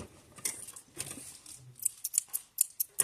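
Scissors trim the edges of perforated stitching paper in a quick series of crisp, close snips, coming faster and sharper toward the end, with no talking.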